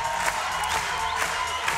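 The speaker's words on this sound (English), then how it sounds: "The crowd is turned on in here." An indoor crowd cheering and applauding at a Faceoff 100-meter sprint final, a steady wash of clapping and whoops with brief swells, no talking over it.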